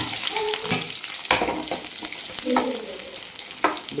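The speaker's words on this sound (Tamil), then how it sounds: "எண்ணெய் ஊற்றியாச்சு இப்போ வந்து நம்ம பார்த்தீங்கன்னா சின்ன வெங்காயம் வரமிளகா கருவேப்பிலை போட்டுட்டோமா" Shallots, dry red chillies and curry leaves fry in hot oil with a loud, close, continuous sizzle, broken by a few sharp scrapes of a spoon against the pan.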